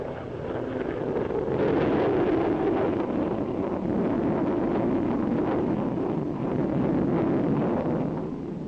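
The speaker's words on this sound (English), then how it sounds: "Two Supermarine Swifts take off." Two Supermarine Swift jet fighters taking off at the 1953 Farnborough air show, a sustained loud jet roar that swells and holds steady across the whole stretch, heard on a muffled old newsreel recording.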